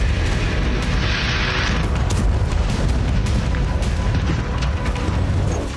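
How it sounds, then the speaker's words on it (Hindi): Loud, continuous roaring blasts with deep rumbling booms and crackling bursts, sustained at full intensity as explosions go off close by at a gas station in Russia hit by a Ukrainian attack. "यूक्रेन के हमलों के बाद रूस के इस गैस स्टेशन में धमाके होने लगे।"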